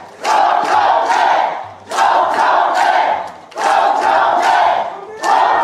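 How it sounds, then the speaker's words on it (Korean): A large crowd at a Korean political party rally roars in three loud, rhythmic bursts, each swelling for over a second and falling back between them, like chanted cheers. "뜨거운 함성과 박수 부탁드립니다"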